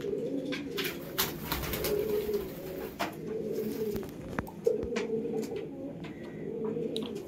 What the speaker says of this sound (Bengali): দেখুন এই দোয়াজের জোড়া